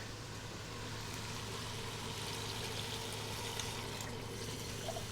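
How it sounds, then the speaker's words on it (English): Steady liquid pour of stock into a hot pan of simmering chicken pasta ingredients, a continuous soft rushing wash with faint bubbling, close and unbroken for several seconds. "Now I'm going to add in that stock."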